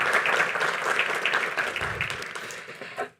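Dense crowd clapping at an interfaith iftar in a mosque, fairly loud and continuous, tapering off toward the end.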